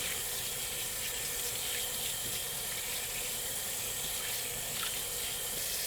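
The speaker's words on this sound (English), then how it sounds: "it's important that we wash our hands with hot water and soap" Hot tap water runs steadily into a sink while hands are washed with soap, a continuous broadband rush with no talk over it.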